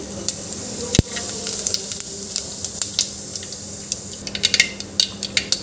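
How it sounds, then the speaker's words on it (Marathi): Mustard seeds and cumin sizzle in hot oil for a white bean curry: a steady crackle with scattered sharp pops, one loud snap early on, and a busier spattering toward the end. "इथे मी मोहरी घालत आहे"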